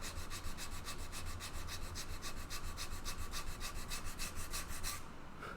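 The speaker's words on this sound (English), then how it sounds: "Sanded to perfection." Wood being sanded by hand for an organ pipe, steady rhythmic back-and-forth rasping strokes about five per second, close and even, stopping just before the end.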